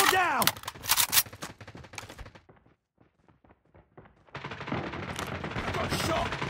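Bursts of Call of Duty gunfire, rapid automatic rattles and sharp shots, crackle near and loud, drop to near silence with faint ticks, then give way to a dense steady wash of game noise.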